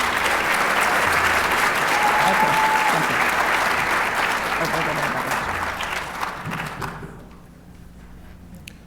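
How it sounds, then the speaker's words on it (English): Sustained applause from a large crowd at a university awards ceremony, steady and dense, fading out near the end as a voice briefly speaks. "Let us all give our honorees of the classified service another round of applause."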